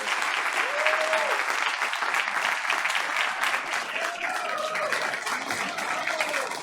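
An audience at a school board of education meeting applauds steadily, a sustained wash of clapping from many hands in a room, with a few faint tonal sounds over it.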